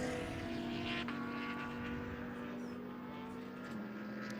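GT race cars on the Slovakia Ring circuit roar by as a steady engine drone with a sustained pitch that falls slightly as they pull away toward the first turn, no talking.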